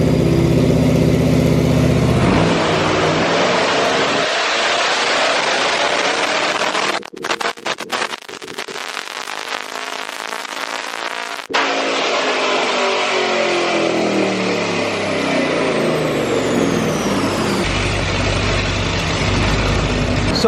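A Chevrolet Camaro running E85 fuel screams through a dyno pull, its engine climbing in pitch through the revs, dropping back and rising again, loud and close throughout.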